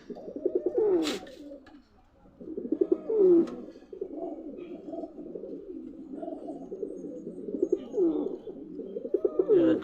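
A male Mayurpankhi pigeon coos repeatedly up close, rolling throaty calls in a rhythmic series, with faint wing or movement sounds; no talk.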